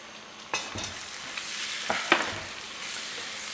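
Flour being stirred into brisket frying in a pot, with a continuous close sizzle and a few sharp scraping stir strokes, no voices.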